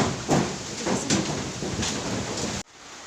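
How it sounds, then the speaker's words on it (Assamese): A windstorm with rain roars steadily outdoors, broadband gusty rushing with several louder surges, close and loud, before cutting off abruptly near the end. "এয়া ধুমুহা, আমাৰ ফালে ধুমুহা মাৰি আছে"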